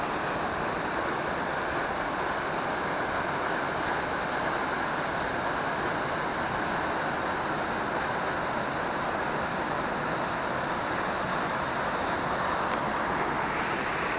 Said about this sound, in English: And here we are looking at this magnificent waterfall.